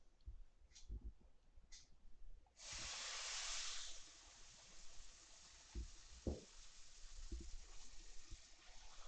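Dosa batter poured onto a hot pan sets off a sudden broad hiss that holds steady for about a second and a half, then fades to a quieter crackle with faint knocks and clicks nearby.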